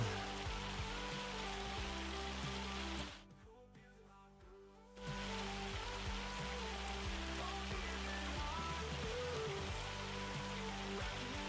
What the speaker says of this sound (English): We're back in the hail.